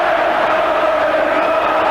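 A large football crowd roaring and cheering at Old Trafford during a Manchester United match against Liverpool, a dense, loud, continuous wall of voices heard from within the stadium.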